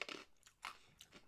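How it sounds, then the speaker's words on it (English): Hard, salty sweet corn snack crunched between the teeth: three quick, faint, crisp bites close to the mic, with no voice heard. "You hear how crunchy that is?"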